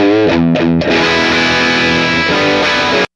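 Distorted electric guitar through an open-back 2x12 cabinet with Greenback speakers: a few choppy chords, then one sustained crunchy chord ringing out before cutting off.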